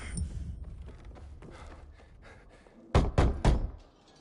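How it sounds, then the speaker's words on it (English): Three sharp knocks on a door in the Dying Light 2 video game, evenly spaced and loud, following a stretch of low ambient game sound. "Knock on some doors."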